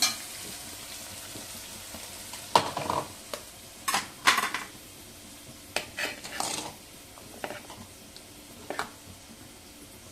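Chicken kadai rice masala of tomato, pepper, cumin, fennel, cinnamon and cloves sautéing in a pan, a steady low sizzle broken by scattered scrapes and clinks of a spoon stirring against the metal, close and moderately loud with no talking.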